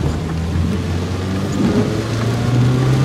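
Heavy rain squalls driven by strong gusts beat against a car during a hailstorm near Eindhoven, Netherlands, a loud, dense and continuous roar close around the vehicle with no voices.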